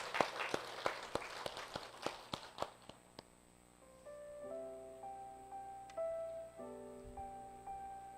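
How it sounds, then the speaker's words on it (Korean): A Sunday service congregation at a Korean church claps to welcome a deacon forward. Fairly sparse, rhythmic claps at moderate volume give way after a few seconds to soft sustained keyboard tones. "김현 집사님 박수로 초청하도록 하겠습니다."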